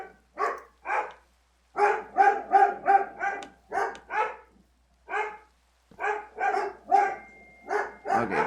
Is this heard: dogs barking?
yes